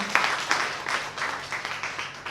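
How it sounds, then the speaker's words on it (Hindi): An audience at an indoor business seminar claps, loose distinct handclaps in an uneven patter that stays moderate and fairly close, with no speech over it. "ताली बजाइए मैम के लिए"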